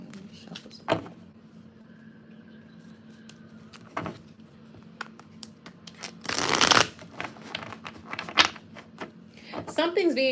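Tarot cards shuffled by hand in a quiet room, a soft papery riffle building into a dense burst of flicking cards, with scattered taps and shuffles before and after.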